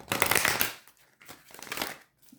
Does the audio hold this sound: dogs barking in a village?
no